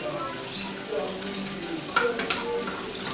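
Green beans and shrimp sauté in a pan, giving a steady, moderate sizzle with occasional scraping stir sounds and a few brief clinks, close by and without speech.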